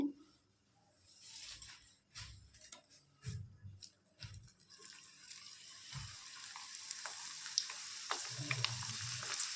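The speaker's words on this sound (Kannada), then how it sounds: "ಎಣ್ಣೆ ಎಲ್ಲ ಬಿಸಿ ಆದಮೇಲೆ ನಾವು ಮಸಾಲೆ ಮಿಕ್ಸ್ ಮಾಡ್ಕೊಂಡು ಇಟ್ಕೊಂಡಿರೋ ಈ ಬೆಂಡೆಕಾಯಿನ ಎಣ್ಣೆ ಒಳಗೆ ಹಾಕೋಬೇಕು" Spiced okra (ladies finger) tossed into hot oil for a dry fry, with steady sizzling that builds and thickens over time, broken by a few low thuds and clinks from a pan or spoon.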